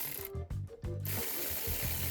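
A socket wrench ratchet tightening a car battery hold-down bolt on a Dodge Charger, heard as a close, brief series of four quick clicking strokes over steady background noise.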